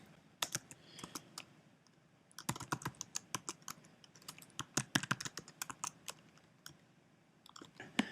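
Close computer keyboard keys clatter in irregular quick bursts with short pauses as a company name is typed into project software.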